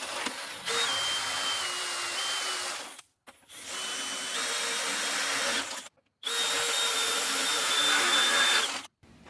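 A power drill bores through a steering part in three sustained whining bursts, each about three seconds long, separated by short silent pauses.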